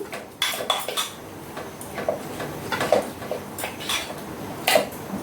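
Soft scraping and clinking of a spoon pressing taro leaves to soften them in a pan, repeated in uneven strokes at close range, with a few sharper metallic taps.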